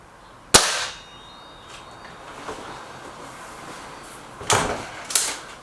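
Air rifle firing a Bisley pellet during a pellet comparison test: one sharp, loud crack near the start, then quieter metallic clicks and clatter from handling the rifle, with two smaller knocks near the end.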